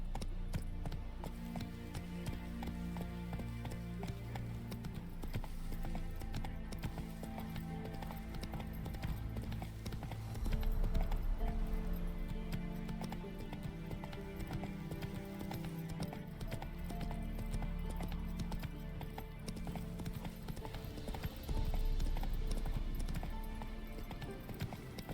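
Horse hooves clip-clopping at a gallop through The Witcher 3: Wild Hunt, steady and close, with an occasional whinny over game music and ambience.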